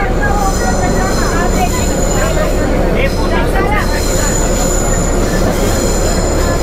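The Nilgiri Mountain Railway toy train rolls alongside Ooty Lake, its wheels rumbling and squealing loudly and continuously at close range with rhythmic clattering on the track.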